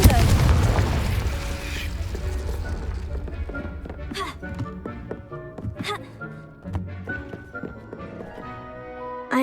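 A heavy fiery blast from Incendio and Confringo spells in Hogwarts Legacy opens with a loud booming burst, then rumbles and crackles away into a string of smaller pops and thuds.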